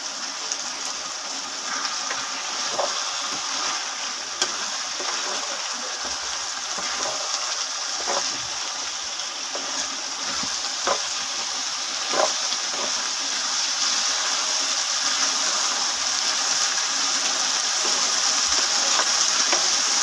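Tomatoes washed in a bowl of water in a home kitchen: a steady running-water gush with faint intermittent splashes and clinks, continuous and moderately close.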